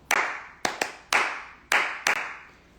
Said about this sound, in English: once they understand that when you clap, they're repeating it back to you